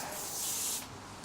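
Aerosol spray can hisses onto a bearing area of a Canyon bicycle during a rebuild, one short burst lasting under a second, close and steady.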